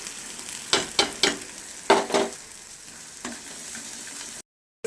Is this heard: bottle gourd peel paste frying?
yes